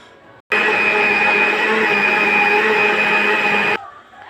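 A blender mixing yogurt switches on abruptly and runs at a steady high-pitched whir for about three seconds, then cuts off, leaving quiet room noise.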